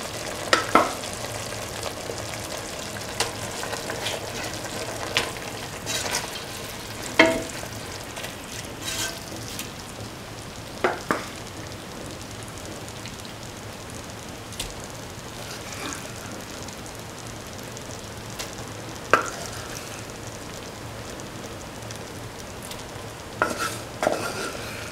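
Fried rice with cauliflower and potato is stirred in a pan, with a soft continuous sizzle and scattered light scrapes and clicks of a spoon against the metal at an unhurried pace.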